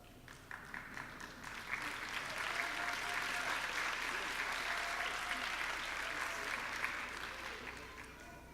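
An audience at a graduate nursing convocation breaks into sustained applause, a dense wash of many hands clapping that swells and holds steady throughout, heard from a distance with no voices standing out.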